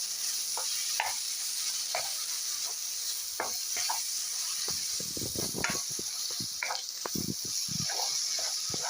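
Turmeric mushroom curry cooking in a pan, a steady hiss under scattered light pops and bubbling ticks that grow busier toward the end, close but quiet, with no voices.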